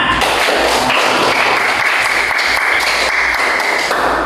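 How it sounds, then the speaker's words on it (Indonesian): Classroom of students clapping hands together in a loud, dense burst of applause that holds steady for several seconds without pause. "tepuk tangan"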